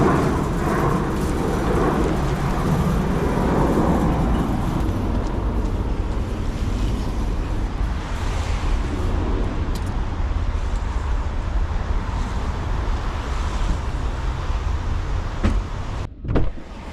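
Car driving on the road, a steady low rumble of engine and tire noise inside the cabin, continuous and fairly loud, with a brief thump near the end.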